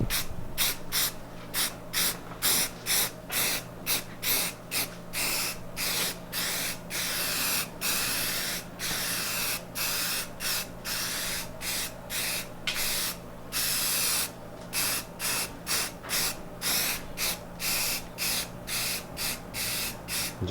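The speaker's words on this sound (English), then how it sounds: "we're gonna start priming it right now" A spray can of black sandable primer hisses in repeated short bursts, each a second or so long with brief gaps, close and fairly loud, no talking.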